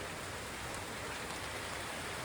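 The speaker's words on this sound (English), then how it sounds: "but I think you do can hear the rain." Rain falling on a balcony in the Netherlands at night, a steady, even hiss of dense drops with no other sounds.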